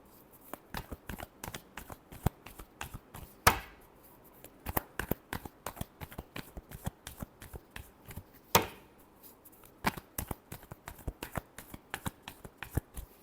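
Tarot cards riffled and shuffled by hand in a quiet room, a rapid series of soft crisp flicks with a few sharper slaps between, fairly close and not very loud.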